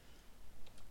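A few quick, light keystrokes on a computer keyboard while an MLS ID is entered into a real estate listing form, faint and close, with soft clicks near the end.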